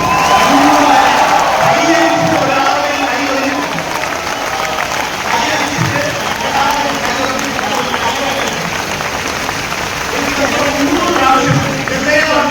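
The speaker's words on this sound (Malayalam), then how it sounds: "രാജേഷ് യാദവ് നിറഞ്ഞ കൈയടി കൊടുക്കുക" A very large crowd of about twelve thousand people at a Nexus 2025 program in Kerala claps and cheers loudly and continuously, with whoops. The applause stays dense and sustained throughout.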